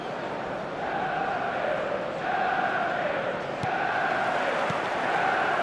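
Stadium crowd in the football game eFootball, a dense, steady roar of chanting fans with rhythmic swelling chants, loud and continuous.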